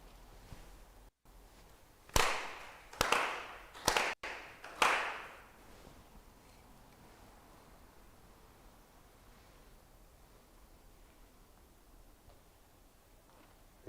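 Four sincere ritual hand claps at a Konko fall memorial service, sharp and evenly spaced in a quiet hall, followed by near silence.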